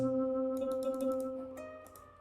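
A single synth one-shot from a one-shot kit, used in an FL Studio beat, sounds briefly with a steady sustained tone and a few bright flickering notes on top, alone and fairly quiet.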